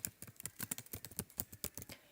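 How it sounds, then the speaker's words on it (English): Rapid, irregular keystrokes on a computer keyboard while entering text into an Excel budget spreadsheet, crisp clicks tumbling close up in a steady stream with no talking. "Just start typing in cell A1 where it says Mrs. Frenzel's budget"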